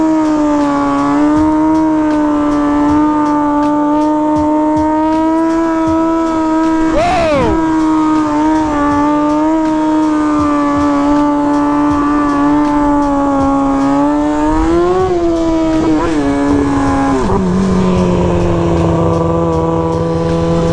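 Motorcycle ridden on Detroit's East Side, its engine droning steadily under a loud close-up roar with a sharp rev spike for a wheelie, later surges and a drop to a lower note, no talk.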